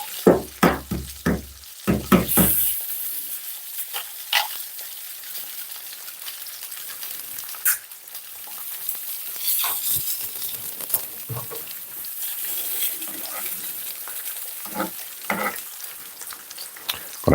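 An egg frying in a pan gives a sizzle with a few sharp clatters at first, then settles into a fainter, patchy crackle with scattered spits and scrapes.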